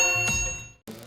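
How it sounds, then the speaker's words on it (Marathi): A bright bell ding rings once, loud and alone near the end, as a subscribe reminder effect following fading harmonium-like music. "घंटी नक्की वाजवा"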